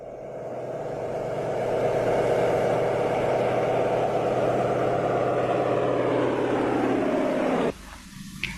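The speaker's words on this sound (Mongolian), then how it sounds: "энэ онгоцоор нисж ирэг" A propeller airplane drones in flight during a 1941 wartime battle for Moscow, a loud steady engine roar building over the first two seconds, holding, then cutting off abruptly near the end.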